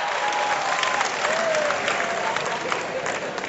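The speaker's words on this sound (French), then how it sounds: "Les femmes applaudissent pour les hommes ce soir." An audience at a comedy show applauds, dense clapping mixed with a few whoops that holds loud and steady throughout before easing slightly at the end.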